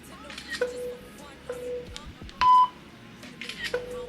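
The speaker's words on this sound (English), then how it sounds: "it's a self-timing app. So let me show y'all how it sounds" A self-timer camera app counts down with a few short electronic beeps at a steady pace, then a longer, louder tone follows, with faint background noise and no clear talk.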